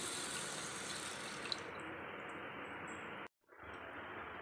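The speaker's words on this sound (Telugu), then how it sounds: "ఇప్పుడు వీటిని 10 నిమిషాల పాటు వాటర్ వేసి నానబెట్టుకోవాలి." Water pours into a bowl of sago pearls to soak them, making a steady splashing stream that stops abruptly near the end and then resumes briefly, with no talking.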